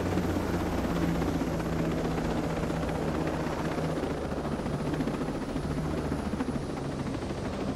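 A helicopter in the video game Ghost Recon Breakpoint drones steadily and close by, its low rotor thump and engine rumble continuous throughout with no speech.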